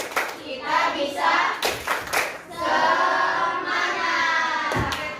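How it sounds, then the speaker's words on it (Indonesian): A school class clapping together in a rhythmic cheer, with bursts of group hand claps in a patterned beat mixed with children's voices chanting along, close and loud in a classroom. "Tepuk semangat dulu."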